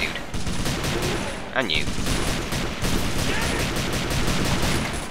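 Sustained gunfire from rifles and machine guns in the World War II strategy game Faces of War, with a dense, continuous rattle of overlapping shots and a brief whistling sweep, while someone speaks briefly over it.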